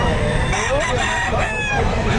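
A rooster crows loudly at a busy chicken market in Batangas, its drawn-out calls sounding over dense crowd noise and nearby chatter.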